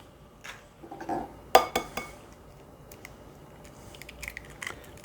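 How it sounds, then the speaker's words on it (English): Three eggs going into a pumpkin cake batter bowl: a few crisp cracks and clinks against the bowl, soft wet squishes between them, near and quiet, no voices. "Now to that, I'm going to add 3 eggs"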